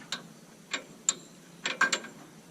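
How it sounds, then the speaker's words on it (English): Sharp metallic clicks and clacks, six or so in irregular succession, close and crisp, as depth adjustment pins are pulled from a Genesis seed drill. "Nothing more than pull the pin, take your pin out."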